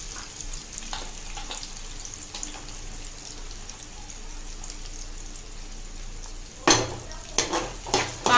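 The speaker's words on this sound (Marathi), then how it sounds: "मिरची आपली थोडी परतून झालेली आहे। आता आपण कांदा टाकूया।" Onion and green chillies frying in a pan for a quick leftover-chapati chivda: a steady, soft sizzle throughout, with a few sharper stirring clatters near the end.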